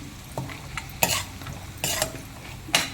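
Cashews and whole spices fry gently in a pan for a gonguura potato pulao, a soft steady sizzle broken by a few sharp scrapes and clinks of a spoon stirring against the metal.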